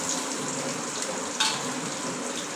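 Green chillies and chana dal sizzle in hot oil in a pan as onions are added, a steady close frying hiss with a brief louder splash partway through.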